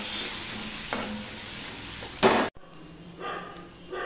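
Onion, crushed garlic and green chillies fry in a nigella seed tempering, with a moderate sizzle, a sharp burst of spattering as they land, then a quieter sizzle after an abrupt cut.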